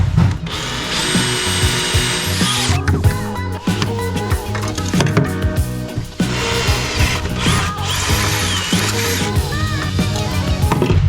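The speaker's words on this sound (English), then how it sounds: "just did a bunch of drilling and fitting on this side" A power drill whines in repeated bursts while working holes into a C8 Corvette chassis being prepped for a cage kit, loud and close, with metallic clanks and handling noises between runs.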